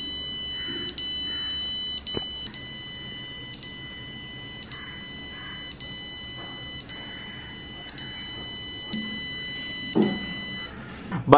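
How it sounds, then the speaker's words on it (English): JBL Tune 130NC earbuds ring out a find-my-buds alert: steady, high-pitched electronic beeps repeating in a regular rhythm, with sharp overtones and no talk over them. "to make the JBL earbuds to beep like this"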